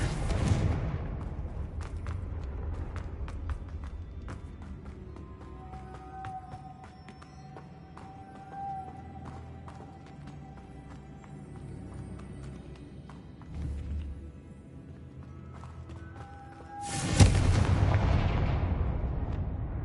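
Fiery Confringo blast spells in the Hogwarts Legacy video game go off as booming explosions over a continuous rumbling game soundscape, with a loud burst near the end.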